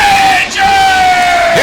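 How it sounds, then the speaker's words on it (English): More than 250 Ranger youth and alumni yelling and cheering as a high school varsity football team runs out through a tunnel before a game: a loud, close, sustained shout with steady held tones. "Here they come through the tunnel of over 250 Ranger youth and alumni cheering them on"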